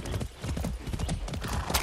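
Horse hooves clip-clop in quick, steady rhythm in the video game Far Cry 6, close and clear through a short stretch of riding.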